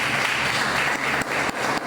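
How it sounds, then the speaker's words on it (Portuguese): Church congregation applauding during a worship service, a dense steady wash of clapping filling the whole two seconds with a few brief dips, no voices standing out. "Aplaudam o Senhor."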